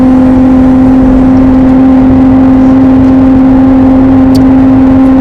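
A loud, steady Lamborghini engine drone with a low humming tone, heard from inside the moving car, constant throughout with no voices.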